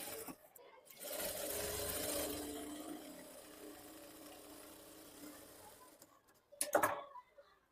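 A sewing machine stitches a work blouse in a steady, continuous whir from about one second in, with a brief louder burst of handling near the end.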